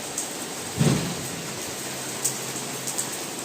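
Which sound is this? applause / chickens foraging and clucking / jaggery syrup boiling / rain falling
rain falling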